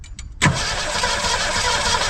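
A 1962 Ford Falcon barn find engine cranks and tries to start, a loud, steady churning roar that cuts in abruptly after a couple of short faint bursts and continues without catching.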